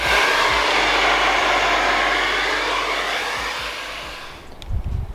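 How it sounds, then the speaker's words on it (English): A hair dryer blows steadily and loudly at close range on a DIY custom valve cover for a Honda Civic D16, a constant whooshing roar that eases slightly before a few clunks near the end. "We're gonna try it with a hairdryer too"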